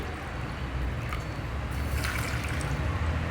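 Water is poured into a bowl of dry idli premix, a steady splashing trickle over a constant background hiss, moderately loud and close.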